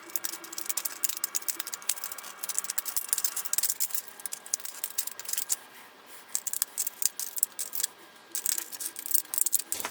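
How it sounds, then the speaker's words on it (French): Scissors snip through a thin aluminium strip in quick, close, crisp cuts with small metallic rattles, pausing briefly before the cutting resumes. "Donc on va le couper au ciseau, proprement, c'est parti."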